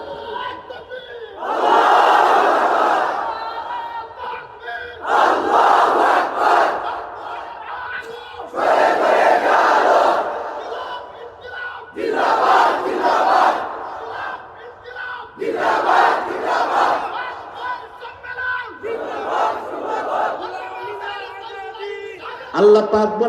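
A large crowd chants the takbir, "Allahu Akbar," in six loud bursts of massed voices, each call separated by a brief pause in a steady call-and-response rhythm.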